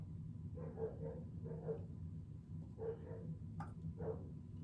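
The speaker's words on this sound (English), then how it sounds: "dogs are barking away like crazy" Several dogs bark away in the distance, quiet bursts of barking repeating in uneven clusters over a steady low background hum, with no talk.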